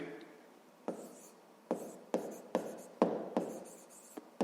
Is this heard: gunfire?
no